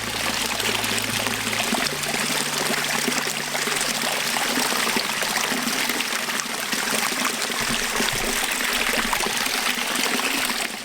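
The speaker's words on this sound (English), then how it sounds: "That is actually trickling down from the beaver pond." Water trickling and streaming steadily down from a beaver pond outdoors, a continuous bright splashing babble heard close and alone, with a low rumble in the first seconds.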